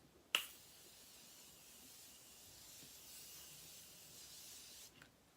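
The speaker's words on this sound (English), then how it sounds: "I'm gonna take the Morphe Continuous Setting Mist and just" A single spritz of Morphe Continuous Setting Mist sprayed onto a face: one long, steady hiss of fine spray lasting several seconds, starting with a sharp pump click and cut off abruptly, close and fairly quiet, with no talking.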